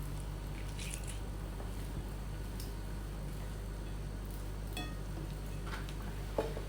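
Chopped cabbage squeezed by hand to press out its water, heard as quiet wet squishes and scattered small drips over a low background hum.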